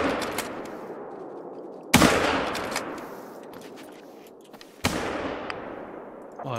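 Two loud gunshots ring out in a moose-hunting video game, each a sharp crack with a long decaying echo, the shots about three seconds apart, followed by faint clicks and small noises.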